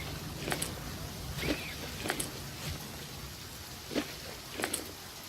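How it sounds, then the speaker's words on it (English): Rain falls steadily in the video game The Flame in the Flood, a constant hiss with scattered brighter drop and splash impacts over about five seconds, with no talk. "I cannot see it properly because of this rain."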